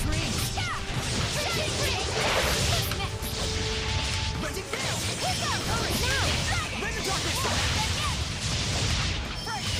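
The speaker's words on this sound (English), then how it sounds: "I'm surprised that shattering thing actually hit." Dense, loud game combat from Tales of Zestiria as a shattering attack lands, with repeated crashes, whooshing swings and impact bursts piling over each other against a busy battle soundtrack.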